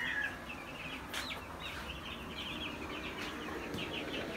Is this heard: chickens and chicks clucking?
yes